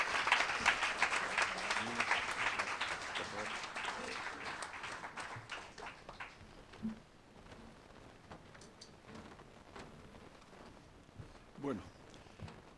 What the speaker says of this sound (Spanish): Un fuerte aplauso para José Menéndez.